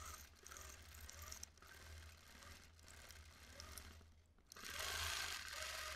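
A domestic sewing machine stitching a freehand design on cream-coloured fabric, running with a steady low whirring hum and rapid needle clatter that pauses briefly and then resumes louder, with no talking.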